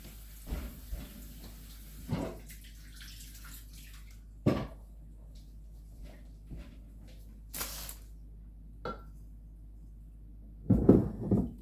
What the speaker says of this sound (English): So you just fill the jar with the water